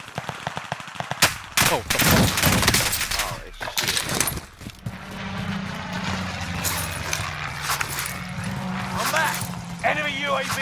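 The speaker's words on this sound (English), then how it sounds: "Yeah, they're shooting at him." Bursts of automatic gunfire in a multiplayer shooter video game, loud and rapid at first, then continuing in scattered volleys under background game noise while players talk over it.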